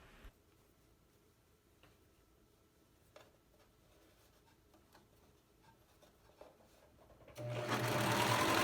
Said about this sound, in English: Sew in the final strip.